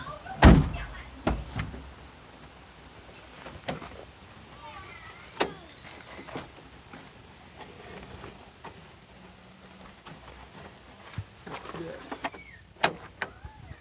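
A side door latch on a 2006 Ford E-350 Econoline van with a broken latch cable is worked, giving sharp knocks and clunks at intervals amid quiet handling noise in a garage-like space.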